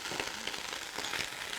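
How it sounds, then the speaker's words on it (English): Sausage and bacon sizzle on a hot Blackstone griddle, a dense, even crackle of frying fat with scattered pops, continuous and fairly close, with no talking over it. "I'm going to put on my sausage and bacon."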